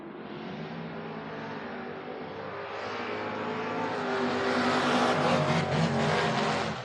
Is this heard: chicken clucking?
no